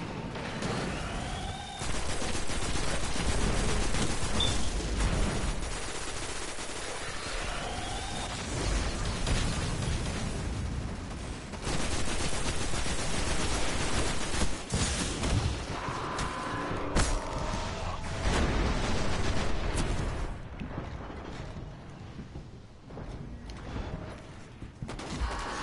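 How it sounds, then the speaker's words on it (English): Rapid automatic rifle fire in a shooter video game, sustained loud bursts with short pauses and occasional heavier blasts, dense and continuous with no speech. "I'm going back to my auto rifle."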